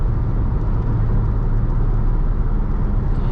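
A 2020 Jeep Grand Cherokee Upland accelerating on the road, heard from inside as a steady, dense engine and road roar without pauses.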